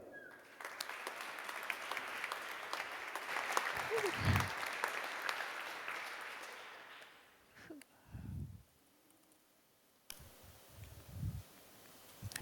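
Conference audience applause for a speaker, a sustained dense wash of clapping that tapers off after several seconds, followed by brief handling noises and faint speech.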